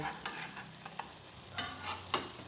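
Pork and banana heart are stirred in a frying pan, with several distinct scraping and clacking spoon strokes over a soft, continuous sizzle, close up and without talking.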